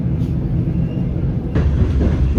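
Interior of a moving train on a forest hiking trip, a loud low rumble with vibrating rattles and rolling wheel noise, steady throughout and swelling slightly toward the end.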